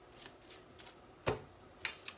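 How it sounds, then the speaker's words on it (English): An overhand shuffle of a deck of playing cards makes soft riffling swishes and a few sharper card snaps, close but quiet in a hushed room, with no speech. "holding this card with your fingers while you do a regular overhand shuffle"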